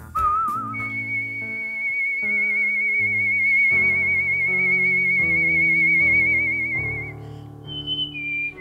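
A clear, sustained melodic whistle carries a song over a steady instrumental backing at a whistling competition, loud and close, with no talking.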